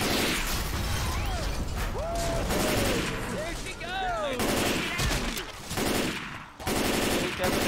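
Rapid gunfire bursts from Left 4 Dead 2 gameplay, dense and continuous throughout with clattering weapon mechanisms, sharp pops and chaotic game effects, while a voice talks over the action.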